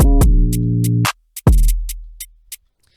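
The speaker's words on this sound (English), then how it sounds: "So you can hear that the kick and the 808 together sound like this." A drill beat kick drum lands together with a deep sustained 808 bass, two booming hits roughly a second apart with crisp hi-hat ticks between them, loud and close with no voices.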